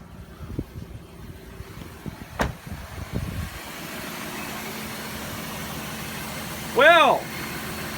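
A 2005 Cadillac DeVille with a misfire idles steadily, a low, even engine hum holding its revs after a brief rise, while people talk nearby at the start.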